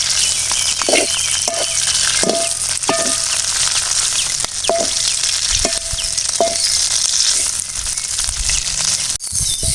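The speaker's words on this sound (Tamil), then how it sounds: "இப்போ நம்ம கருவேப்பிலையை வறுத்துக்கலாம் அதுக்கு கொஞ்சமாக நம்ம இதில் சமையல் எண்ணெய் கடலை எண்ணெய் ஊற்றிக்கலாம்" Curry leaves fry in groundnut oil with a steady, loud sizzle, and a utensil scrapes and stirs them in irregular taps throughout. No voices are heard.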